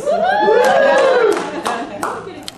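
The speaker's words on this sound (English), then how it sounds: "Lots of applause" Workshop participants react with excited voices and chuckles, followed by a few scattered, sharp hand claps, close and loud in a small room.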